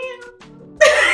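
A person's voice imitates a cat's meow, a single loud, sudden cry that follows a few quieter vocal sounds.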